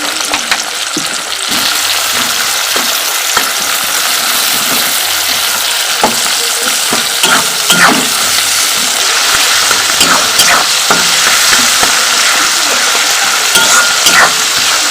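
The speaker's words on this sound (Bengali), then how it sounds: "অল্প করে নুন নুনটা দিলে পেঁয়াজটা একটু তাড়াতাড়ি ভাজা হয়ে যায় ক্রিস্পি হয় লাল লাল হয়" Chopped onions with a little salt sizzle steadily in a pan for chicken kosha, with repeated scraping stir strokes over a constant, fairly loud frying hiss; no talking.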